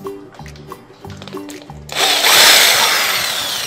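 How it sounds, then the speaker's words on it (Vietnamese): A power screwdriver whines loudly as it backs screws out of an electric fan under repair, starting after a stretch of quieter clicking and handling, then running as one sustained, close, high-pitched spin that fades slightly at the end. "chúng ta sẽ bắt đầu tháo những ốc này ra"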